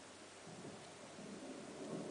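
A thunderstorm rumbles in the video game Alan Wake: dense, steady storm noise with rain and a low rolling thunder swell, faint and continuous throughout, no voices.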